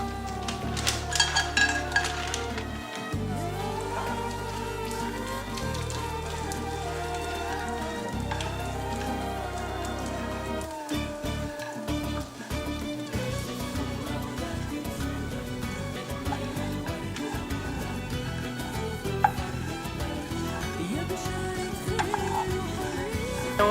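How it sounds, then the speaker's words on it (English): Slivered almonds frying in olive oil in a hot pan give a steady, rain-like sizzle that runs throughout, with occasional clinks of a utensil against the pan. "we're going to take some sliced or slivered almonds, and we're going to put those on top, and we're going to start cooking those up"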